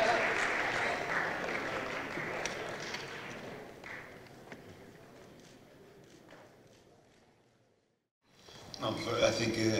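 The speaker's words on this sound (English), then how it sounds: "a warm round of applause to our guests walking into the studio" Steady applause from a studio audience at a Chelsea FC press conference, fading gradually over several seconds before cutting out, then noise resumes.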